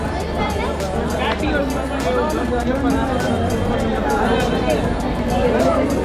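A crowd of temple visitors queuing at the Kaal Bhairav temple in Varanasi, a steady loud hubbub of many overlapping voices with rhythmic clanks in the background.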